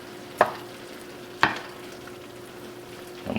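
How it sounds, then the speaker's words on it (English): Two or three scraping stirs through smoked beef chuck roast in a thick mushroom sauce, each a short sharp scrape over a faint steady sizzle, with quiet gaps between. "Let's give this a stir"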